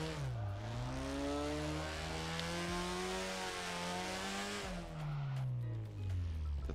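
Car engine in the Drift21 video game, revving loud and steady with rising and falling pitch through a drift, a tire squeal faintly mixed in, then dropping as the car slows.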